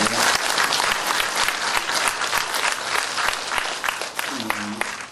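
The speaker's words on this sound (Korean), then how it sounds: "박수 치고요" Dense applause from a crowd at a Buddhist sermon fills the room steadily, with a voice briefly emerging near the end.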